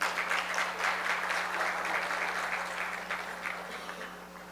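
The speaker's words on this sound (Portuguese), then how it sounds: "que eu peço aqui uma salva de palmas." Steady audience applause for a teacher fills a formal ceremony hall for an education workers' union, moderately distant and even, with a low electrical hum running underneath.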